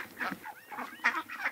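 Chickens in a garden call out in a string of short, bright, nasal clucks and squawks, several close together and fairly near, over quiet ground.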